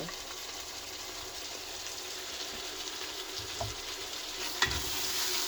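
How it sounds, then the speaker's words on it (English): Tomatoes frying in a pan, a soft continuous sizzle with faint stirring touches, quiet and without speech. "we will fry the tomato for about 10 minutes"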